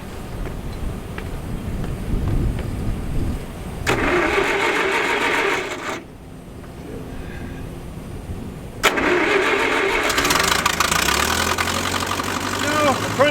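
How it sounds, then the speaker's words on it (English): A heavy machine's engine is started in cold weather beside a grave site, cranking and catching into a rough, knocking idle that runs loud and close, with brief pauses and some talk nearby. "So we'll get the engine started, then we'll get her unloaded"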